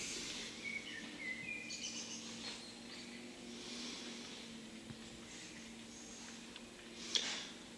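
Birds sing softly in an English garden, apparently within a video game, with sparse chirps and whistles over a faint steady background hum, distant and quiet throughout.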